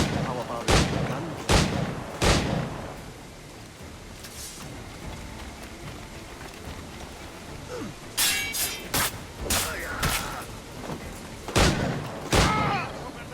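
Gunfire in the video game Assassin's Creed IV: Black Flag, several loud sharp blasts spaced apart, then a quicker cluster of shots, with a voice speaking at times and a rain-like hiss underneath.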